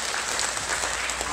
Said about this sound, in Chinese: 再度掌声